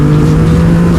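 A Triumph motorcycle engine revs under a small blip of throttle, giving a loud, steady low hum with a faint rising tone at the very end.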